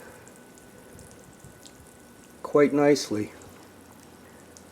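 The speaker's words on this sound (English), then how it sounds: "We got a good spray coming out, obviously." Homemade evaporative cooler spray nozzles hiss out a steady spray of water, a continuous soft rushing that runs throughout while someone talks briefly over it.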